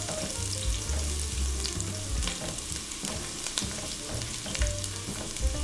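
Garlic frying in a hot pan at the start of a shrimp and coconut milk dish: a steady, loud sizzle and crackle runs throughout with no voices, with some low stirring thumps beneath.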